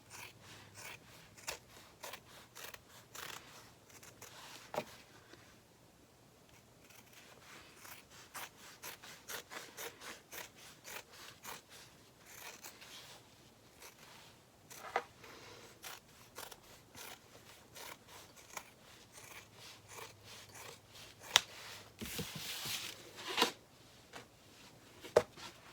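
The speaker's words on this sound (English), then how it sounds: "So now I'm just going to trim my seam allowances" Scissors snipping through fabric seam allowances on a satchel flap, a run of soft, close cutting and rubbing strokes with brief louder snips, no talking.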